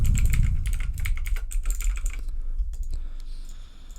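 Rapid keystrokes on a computer keyboard as an email address and password are typed, a steady close clatter of clicks that thins out toward the end, with no talking.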